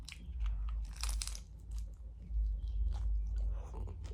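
A crunchy fried tortilla chicken tostada being bitten and chewed up close, with loud, crisp crunching bites followed by steady chewing, no talking.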